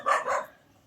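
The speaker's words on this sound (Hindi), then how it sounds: "और कुत्ता जो है ना लगातार भौंक रहा है।" A single short bark from a dog in a village in Pauri Garhwal, fairly close and brief, with no other sound around it.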